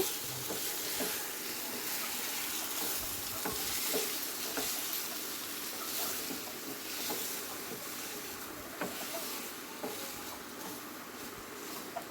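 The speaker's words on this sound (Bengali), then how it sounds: "এইভাবে কষতে কষতে মশলা চিকেন থেকে তেল ছেড়ে যাবে।" Masala chicken stir-fried in a pan, a quiet, continuous sizzle of oil with scattered soft scrapes and clicks of stirring throughout, no voices.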